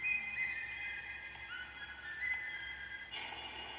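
A whistle in the Bendy and the Ink Machine chapter 5 reveal trailer sounds as a steady, clear tone with a faint, sustained musical background and a brighter burst near the end.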